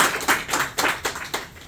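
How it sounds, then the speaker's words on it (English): Scattered hand clapping from a small audience at a climate event, a few loose uneven claps in bursts rather than full applause. "So let's give a round of applause."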